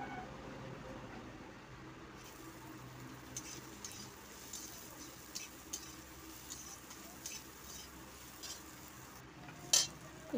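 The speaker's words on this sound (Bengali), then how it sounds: "বড়ি ভাজা হয়ে গেলে পেঁয়াজ কুচি দিয়ে দেব" Chopped onion fries in mustard oil in a pan with a faint, steady sizzle, broken by occasional light scrapes and clinks of a stirring spoon.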